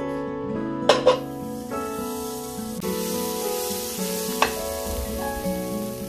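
Butter and garlic sizzle in a hot pan as a soft, steady hiss beneath louder tonal background music, with a couple of brief sharper spits.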